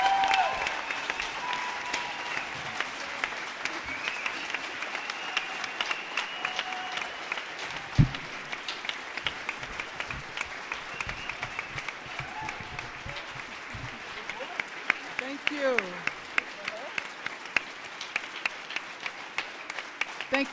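Audience applause welcoming Professor Angela Davis at a talk on Palestine: sustained clapping from a large crowd, steady for about twenty seconds, with scattered voices and cheers rising near the end.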